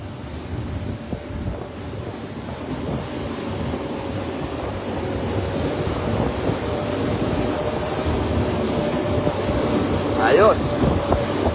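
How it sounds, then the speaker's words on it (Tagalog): Wind and huge ocean waves roar steadily at sea, a loud, continuous wash of noise with gusting on the microphone, while people talk under it and a brief tonal cry rises near the end. "Ang kabundok na alon"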